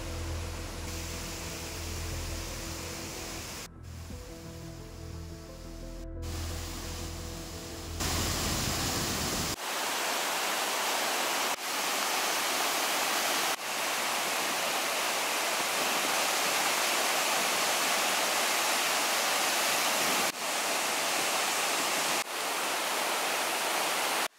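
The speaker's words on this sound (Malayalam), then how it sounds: "ഒരു മൂന്ന് നിരയായിട്ടാണ് ഈ പുന്നാറ് വെള്ളച്ചാട്ടം പതിക്കുന്നത്" Punnar waterfall deep in Idukki forest, dropping in three tiers, roars as a loud, broad, continuous rush of water close by, steady and unbroken after a brief quieter stretch at the start.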